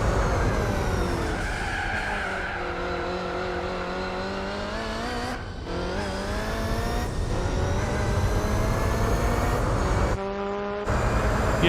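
Peugeot 905 race car engine in Gran Turismo 4, a loud sustained high-pitched engine wail that rises and falls through gear changes, with two brief cuts in the sound and no talking.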